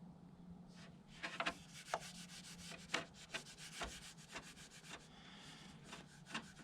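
A squeegee rubs protector film down onto the fork of a BMW GS 1200/1250 motorcycle in repeated short scraping strokes, close and fairly quiet, with a soft rhythmic swishing between firmer passes.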